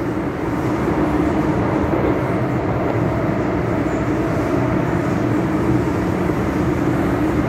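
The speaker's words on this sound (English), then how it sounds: "The M trains are way better than the K trains," Continuous loud roar and hum of a Hong Kong MTR M-train running, heard from inside, with a steady mechanical drone and no talking.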